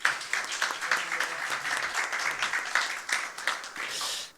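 An audience at a public forum on health walking claps for an introduced speaker, a continuous, moderately loud patter of many hands that holds steady before cutting off.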